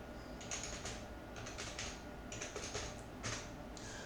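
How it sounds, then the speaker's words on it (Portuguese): Quiet typing on a computer keyboard, with short bursts of soft clicking keystrokes and brief pauses between them, close and isolated. "eu vou digitar aqui o SSN dele."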